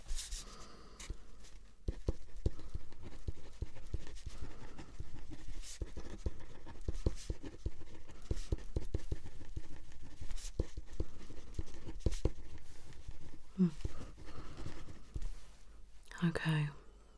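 A pen scratches on paper during an ASMR eye and face examination, with soft, intermittent strokes close to the mic and quiet whispering mixed in.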